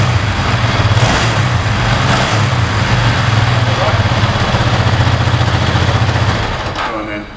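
A shed-built Cagiva flat tracker motorcycle on standard pipes runs close and loud with a deep, pulsing engine note that holds steady before easing off near the end.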